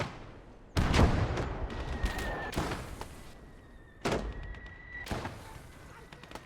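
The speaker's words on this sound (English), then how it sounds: "now we're getting peppered by, I believe, his 60mm mortar" Small-caliber 60mm mortar rounds landing in the Gates of Hell Stalingrad battle game, several sharp booming blasts with rumbling tails striking close by at irregular intervals, mixed with lighter distant thumps.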